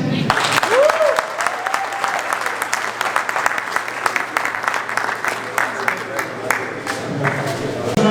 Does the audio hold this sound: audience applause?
yes